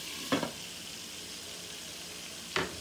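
Burger patty cooking in a covered pan, giving a soft steady sizzle broken by two short, sharper bursts of frying noise, quiet and close with no talking.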